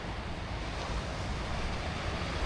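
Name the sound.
sea waves on a windy beach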